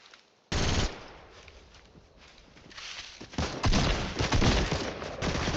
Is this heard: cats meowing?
no